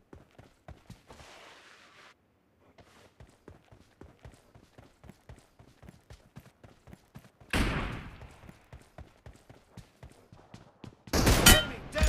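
Gunfire in a BGMI match: a steady run of soft, distant shots and footsteps gives way to two louder, sharper bursts near the end, including a long-range rifle shot.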